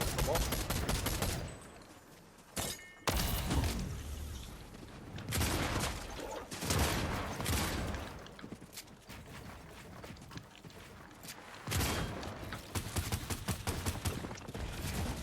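Rifle fire in a Fortnite match, loud rapid bursts that start and stop repeatedly throughout, with brief pauses between volleys.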